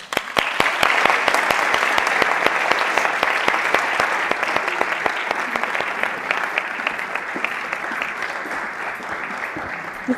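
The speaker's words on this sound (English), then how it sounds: "Please welcome Sarah to the stage with warm applause." An audience at a product launch event applauds steadily and loudly for about ten seconds, dense clapping that fades slightly toward the end as a speaker takes the stage.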